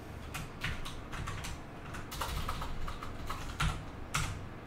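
Steady bursts of typing on a computer keyboard, fairly close and clear, with quick irregular clusters of keystrokes and a few louder key hits, no voices.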